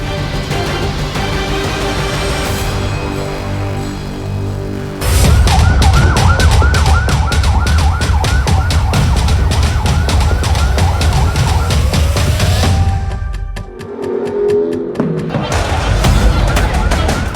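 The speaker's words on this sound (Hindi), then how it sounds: "फिलिस्तीन के वेस्ट बैंक के इस अस्पताल के बाहर एक के बाद एक एम्बुलेंस फ्लैश लाइट जलाकर पहुंचती है।" Ambulances arriving one after another outside a hospital in the West Bank, with loud wailing and yelping sirens sweeping up and down, close and continuous, over traffic rumble and crowd noise.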